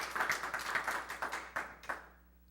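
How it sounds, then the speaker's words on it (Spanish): Audience applause at a conference, a short burst of clapping that thins into a few scattered claps and fades to quiet within about two seconds. "Por favor, recibamos con un fuerte aplauso"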